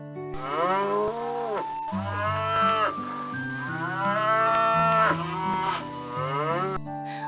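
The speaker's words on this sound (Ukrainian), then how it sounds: "Це корова. Вона каже му." Loud, drawn-out cow moos, several long lowing calls in a row, close by and steady, with no talking.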